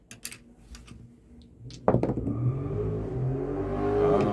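A car out in a yard bursts into engine revving after light tapping sounds, then holds a rising, whining roar that builds toward the end, heard from indoors at moderate distance.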